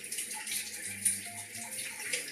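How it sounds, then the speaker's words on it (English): Water strained out of a jar of soaked cashews, poured past a hand held over the mouth, runs as a steady close trickle and splash for the whole stretch, alone with no talking. "after I soak my cashews, I strain them"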